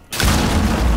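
A C4 charge detonates in Rainbow Six Siege, a sudden loud, close boom that hits hard and leaves a thick rumbling roar filling the rest of the moment.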